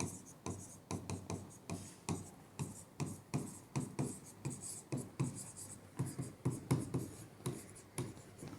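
A pen writing on a paper application form, steady rhythmic scratching strokes close up, repeating in even bursts about twice per second throughout.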